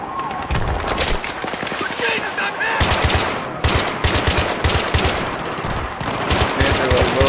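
Automatic gunfire in the video game Battlefield 3, rapid rattling bursts repeating throughout, loud and close, with someone talking over it.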